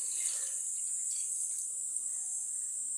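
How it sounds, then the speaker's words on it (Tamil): Rice-washing water is poured into a pan of fish curry, a steady, soft hiss of flowing liquid that runs evenly throughout, fairly faint and close. "இந்த அரிசி களைஞ்ச தண்ணி எடுத்து வச்சுருக்கோம்ப்பா"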